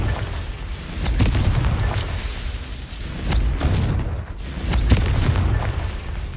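Explosive Confringo spell effects in the video game Hogwarts Legacy, a series of heavy booming blasts and bursts repeating every couple of seconds over a dense rumbling game soundscape.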